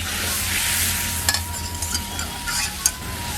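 Spice masala of turmeric and chilli powder fries in a pan with a little water, giving a soft, steady sizzle with faint scraping stirs and occasional small pops, and no voices.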